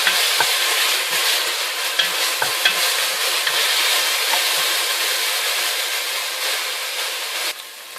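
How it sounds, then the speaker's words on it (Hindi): Onions and garlic fry in about two tablespoons of oil in a pan for a chicken samosa filling. A steady, loud, close sizzle carries light stirring clicks and scrapes, then eases off right at the end. "पैन में मैंने बहुत ही थोड़ा सा तकरीबन 2 टेबल स्पून ऑयल लिया है, जिसमें मैं अपने प्याज और लहसुन को फ्राई करूंगी।"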